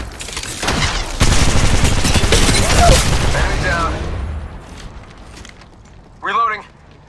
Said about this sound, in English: Opening fire. Incoming fire.